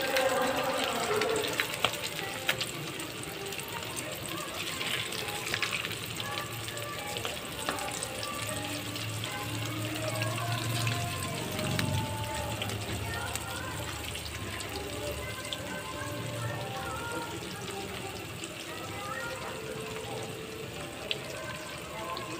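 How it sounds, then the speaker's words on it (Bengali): Chicken pakora frying in hot oil, a steady crackling sizzle throughout with occasional louder pops and faint speech in the background. "এবার পকোড়াটা ভেজে নেব"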